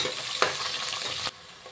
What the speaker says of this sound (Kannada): ಇದನ್ನು ಸ್ವಲ್ಪ ಚೆನ್ನಾಗಿ ಫ್ರೈ ಮಾಡ್ಕೊಂಬಿಡೋಣ.